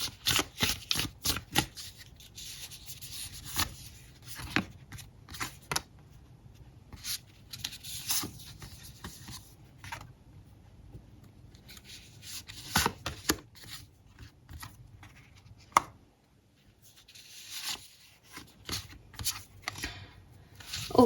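Tarot cards are shuffled in repeated quick riffling bursts, close and crisp, with short pauses between rounds and no talking.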